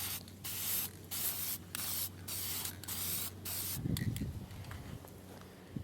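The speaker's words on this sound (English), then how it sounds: "just do a little spray." A spray can hisses in a steady series of short bursts, then a brief rattling clatter follows and the bursts stop.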